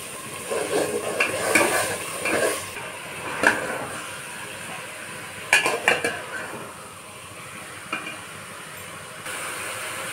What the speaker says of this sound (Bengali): কোয়াশ আর পটলটাকে ঢেলে দেবো, দিয়ে আর একটু ভালো করে কষে নেব।